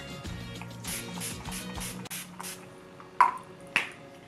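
Two quick, sharp spritzes from an Urban Decay setting spray bottle sound close by after some faint background tones.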